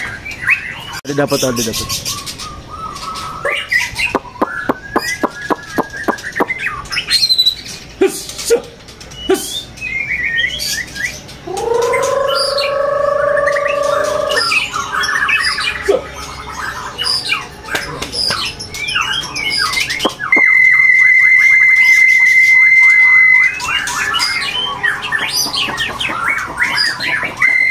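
A caged white-rumped shama sings loud, varied whistled phrases and trills at a crowded bird market, amid other birds' chirps and squawks and brief talk nearby; a long steady whistled note stands out near the end.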